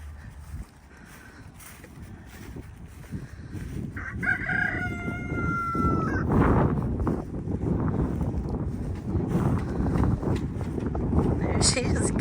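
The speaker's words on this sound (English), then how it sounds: "I have a little hen following me around." A little hen following someone around a greenhouse build clucks in a brief burst of calls, close by over wind noise while a person talks throughout.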